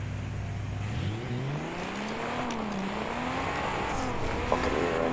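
A trophy truck engine in the off-road racing game Baja roars and revs continuously, its pitch climbing and sweeping up and down as the truck accelerates, loud and close with no talking.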